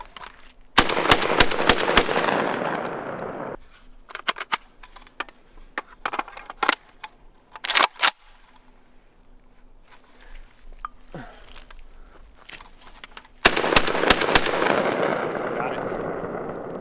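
A JTS M12AK-T1 AK-style semi-automatic shotgun fires at clay pigeons outdoors, loud sharp blasts in quick bursts with rolling echoes, several single shots between, and a faint voice in quieter gaps.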